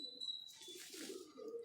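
A pigeon, a high-flying breeding hen kept by a fancier, gives soft low cooing, a few murmuring phrases close by with no talk over them.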